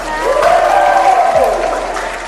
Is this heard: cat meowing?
no